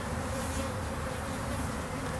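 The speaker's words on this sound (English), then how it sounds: "Man, this thing is loaded with bees." Honey bees buzz in a dense, steady drone from an opened hive box packed with bees during a hive inspection, close and continuous with no talking.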